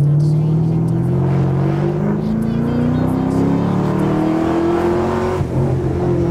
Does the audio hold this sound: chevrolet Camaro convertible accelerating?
yes